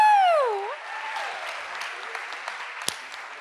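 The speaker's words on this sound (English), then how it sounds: "Let's give them a round of applause." A conference audience at a Walt Disney closing session applauds after a whooping cheer, with steady clapping that fades slightly and continues throughout.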